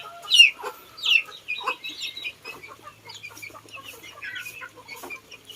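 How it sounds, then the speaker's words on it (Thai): Backyard native chickens, kept alongside ducks on a small Thai farm, cluck while gathering to drink water: a few sharp, close calls open, then softer scattered clucks and chatter continue over a faint low hum. "เป็ดไก่กินน้ำกัน"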